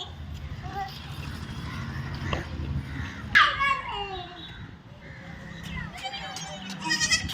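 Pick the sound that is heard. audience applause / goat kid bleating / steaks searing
goat kid bleating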